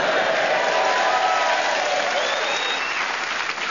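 A theatre audience at the Theatre Royal in Nottingham applauding and cheering, dense, sustained clapping from a large crowd close by, with a faint whistle partway through.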